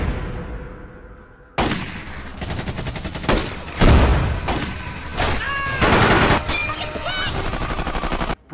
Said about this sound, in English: So they start firing at the cops start firing at them.